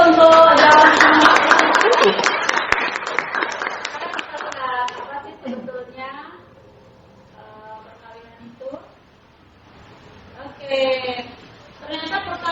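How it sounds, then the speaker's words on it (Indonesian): A university lecture class breaks into a burst of applause for a student's answer, a few seconds of dense clapping that fades as a lecturer starts talking again. "Kita kasih aplaus dulu untuk jawaban"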